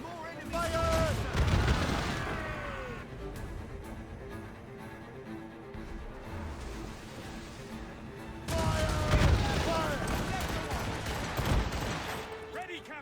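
Naval battle in Assassin's Creed Rogue, with ship cannons firing in two heavy rolling volleys of booming shots and crashes. Shouted commands and game music sit between the barrages.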